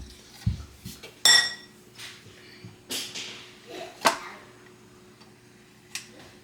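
Snickerdoodle dough ingredients mixed in a bowl, heard as scattered close clinks and taps of a utensil against the bowl, one louder knock near the start and quieter scrapes following at irregular intervals, no talking.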